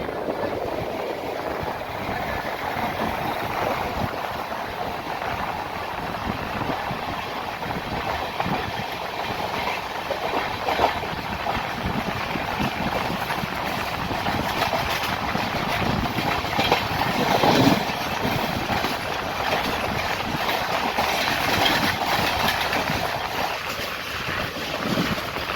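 Konark Express running in monsoon weather as it overtakes a local train, a loud, continuous rolling rumble of rails with steady clickety-clack throughout, heard from on board with no talk.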